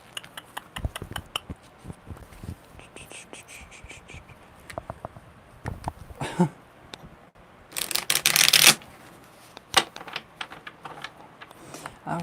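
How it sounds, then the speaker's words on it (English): Tarot cards being shuffled by hand: a string of light, quick clicks and taps, then a short, loud riffling burst near the end, followed by a few more soft taps. "one more good shuffle"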